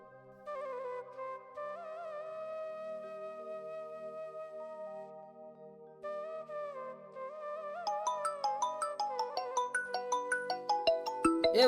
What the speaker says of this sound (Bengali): তোমার ফোন বাজছে গো।